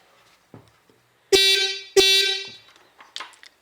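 Two loud, steady electric horn blasts from a Ural M-62 motorcycle under test, each about half a second long with a short gap between them, sounding close up after a few faint clicks, with light handling noises afterward.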